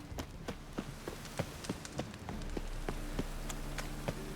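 Rain falls in The Witcher 3: Wild Hunt, a steady wash under a sequence of regular sharp taps like hoofbeats, moderately loud.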